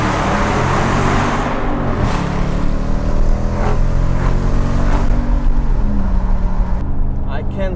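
A Dodge Challenger R/T muscle car engine and exhaust rumbling loudly inside a tunnel, a deep continuous drone with a few revving surges beneath someone speaking.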